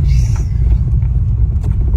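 A petrol Porsche 996 Turbo gives a close, deep, steady engine rumble at idle, with a faint hiss above the low throb.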